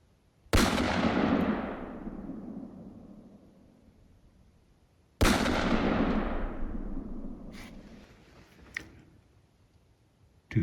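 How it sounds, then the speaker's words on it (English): Two booming rifle shots ring out during a deer hunt, a few seconds apart. Each leaves a long, rolling echo that fades across the open land. "Two shots close to the northeast."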